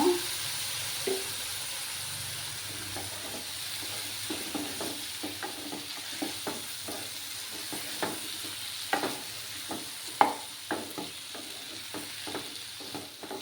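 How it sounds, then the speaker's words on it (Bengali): Cumin powder masala with a splash of water cooking in a pan for a dry fish, potato and brinjal dish, giving a steady soft sizzle broken by repeated short stirring scrapes and clicks, close and fairly quiet. "এক চামচের মতো জিরে গুঁড়ো দিলাম। দিয়ে সামান্য একটু জল দেব মশলাটাকে কষানোর জন্য।"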